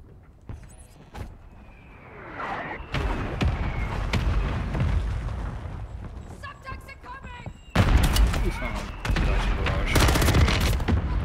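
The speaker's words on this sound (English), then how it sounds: "Mortar strike on us." Mortar strike explosions in Call of Duty: Warzone boom and crack repeatedly amid scattered gunfire, growing denser and louder toward the end, with a player talking over the chaos.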